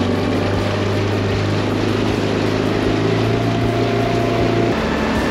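A small micro skiff outboard motor drones loudly and steadily up close, its engine tone shifting slightly as it picks up speed leaving a no-wake zone, with water noise underneath.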